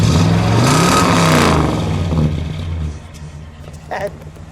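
A 1966 Buick Wildcat GS V8 engine (425 cubic inch) revs up loudly for a couple of seconds, then drops back toward an idle rumble as a voice briefly speaks.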